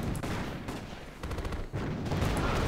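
Bombardment and gunfire in the Axis & Allies strategy game: dense, overlapping bursts of shots and blasts crackle continuously, with a few sharper explosions standing out and no voices.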